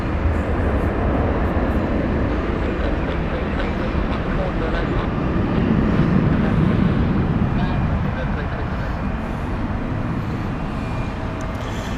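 A British Airways A320 inbound to Heathrow makes a steady, broad roar as it passes overhead, with people talking underneath.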